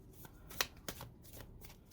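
Soft riffling and flicking of cards being shuffled, a few quick crisp snaps in close succession, quiet and near.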